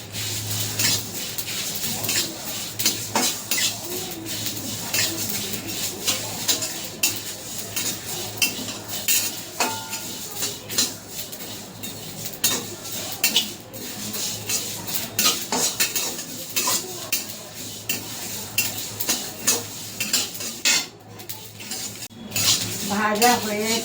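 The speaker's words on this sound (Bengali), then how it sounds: "মশলাটা ভেজে নেব, ভেজে ঠান্ডা করে গুঁড়ো করে নেব।" Dry whole spices (fennel, cumin and bay leaf) are stirred in a pan for a jujube pickle, giving steady clinking and scraping of a utensil against metal over a low hum, close and continuous throughout.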